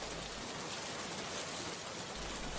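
Rain falls in a brief, continuous, dense hiss of drops on surfaces nearby, steady and unbroken throughout.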